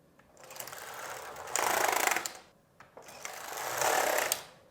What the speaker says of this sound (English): And now I'm going to knit 2 circular rows.